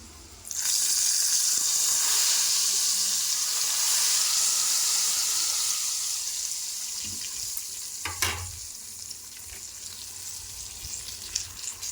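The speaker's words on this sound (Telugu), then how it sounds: "ఇప్పుడు ఈ తాలింపు అంతా మనం మసిలిన చారులో వేసుకుందామండి" Hot tempering poured into simmering bottle gourd stew gives a loud, steady sizzle starting at once and slowly easing, with a faint clink of a utensil near the end.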